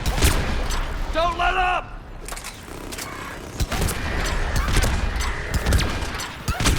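Gunfire from the video game Mass Effect 3 crackles in loud, sharp bursts throughout a chaotic battle, with a shouted voice and other combat noise layered over the shots.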